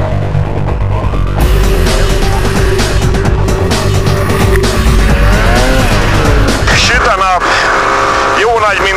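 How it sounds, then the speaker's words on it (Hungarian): A Ski-Doo MX Z Renegade 800 two-stroke snowmobile accelerates hard through snow, its engine roaring loud and close with rising and falling pitch sweeps, constant throughout. "Két ütemű lóerő tombol alattam."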